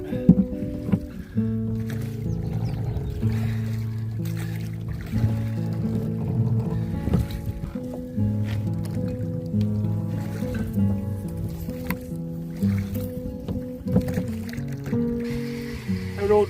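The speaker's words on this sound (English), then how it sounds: "I rode right over the reeds there" A kayak grinding over reeds and rocks in water, with steady low scraping, creaking and splashing rubs close by throughout and no talking.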